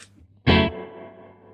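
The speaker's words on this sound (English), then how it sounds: "if I do a stab and you hear the reverb trail, you'll hear the fluttering in the reverb as well" A single loud distorted guitar stab through a Victory V40 Deluxe amp rings out, followed by a long reverb tail that wavers and flutters with tremolo as it slowly fades.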